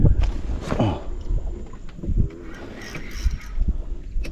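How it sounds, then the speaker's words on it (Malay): Strong wind buffets a microphone on a small boat out on the water, gusting in uneven rumbling bursts with occasional knocks and creaks close by. "Angin kuat juga bang."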